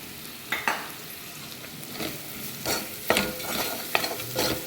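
Turmeric and garam masala fry in oil in a pan with a soft, continuous sizzle, broken by several sharper scrapes as a small spoon stirs the spices, quiet and close with no talking.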